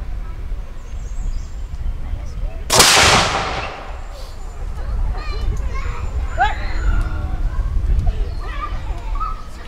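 Historical cannon fired at a reenactment demonstration of the Storming of Stony Point, one sharp loud blast that booms and rolls away, with crowd chatter and children's voices around it before and after.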